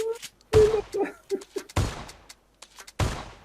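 Shotgun blasts in PUBG during a shotgun-only challenge: three loud, sharp broadband bangs spaced about a second apart, each with a short decaying tail, interleaved with excited voices talking between shots.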